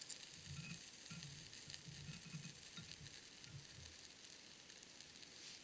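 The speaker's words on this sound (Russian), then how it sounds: "Сейчас масло разогреется." Oil heating in an unsteady frying pan over an Eco-Fire camp stove outdoors, a faint continuous hiss and crackle with soft low bursts, heard alone without talk.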